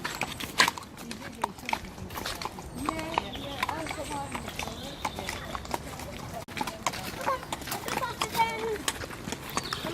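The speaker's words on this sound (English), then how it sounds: "Giddy up, horsey." A horse walks along on a ride with a quiet, steady clip-clop of hooves under the talk of children and adults nearby.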